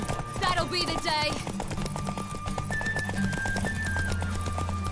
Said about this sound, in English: Want that horse, don't you?